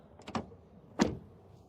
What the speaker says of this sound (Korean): 문을 닫을 때 나는 소리는 이렇습니다.